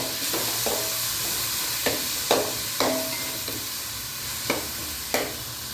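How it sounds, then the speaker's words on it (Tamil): Tomatoes sauté in oil for a fish curry, producing a continuous close sizzle with a handful of sharp spatula taps and scrapes spread irregularly across it. "எல்லாம் ஒன்று சேர வதங்கி வரணுங்க"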